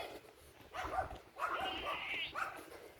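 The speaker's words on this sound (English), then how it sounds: "a dog, a sheep." A dog barks outdoors on a farm, a few yappy barks and whining yelps in quick succession, close and moderately loud with other animals around.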